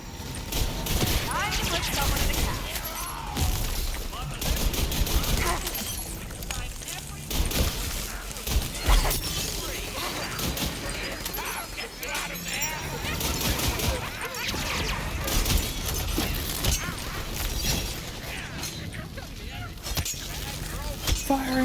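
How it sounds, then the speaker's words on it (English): Salvo of gunfire in the Tiny Tina's Wonderlands co-op game, loud continuous bursts and crashes mixed with busy game effects, with voices talking over much of it. "Firing a salvo."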